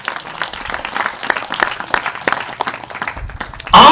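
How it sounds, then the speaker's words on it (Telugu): A church congregation claps loudly in a dense, steady patter that runs for several seconds, with a sharp louder burst right at the end. "చప్పట్లు కొట్టండి గట్టిగా"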